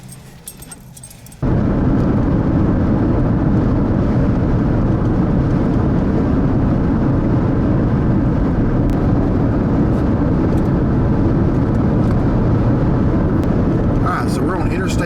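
A car cruising on Interstate 15 north of Salt Lake City, heard from inside as a loud, steady road and engine roar that starts abruptly and keeps going without a break.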